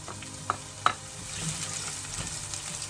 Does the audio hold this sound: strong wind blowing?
no